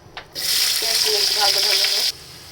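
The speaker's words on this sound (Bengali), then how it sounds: "পেঁয়াজ দিয়ে দিই।" A sudden loud sizzle bursts up as onions hit hot oil for masoor dal, crackling steadily close up for under two seconds before cutting off.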